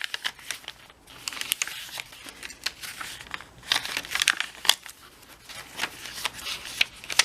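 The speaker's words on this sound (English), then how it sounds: "I've got some tea-dyed papers and a whole bunch of other assorted papers, lined papers and drawing paper." Tea-dyed, lined and drawing papers for a handmade journal being shuffled and handled, giving repeated close crinkling and rustling bursts with short pauses, no talking.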